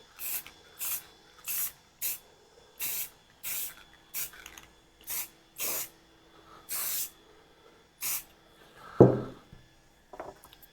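Short bursts of aerosol spray paint with built-in primer go onto Halloween craft pieces in light coats, about a dozen evenly paced hisses close by, with a brief louder clatter near the end.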